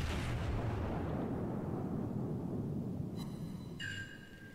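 A deep, rumbling warship cannon blast in the video game World of Warships rolls out and slowly fades, followed by faint high electronic tones near the end.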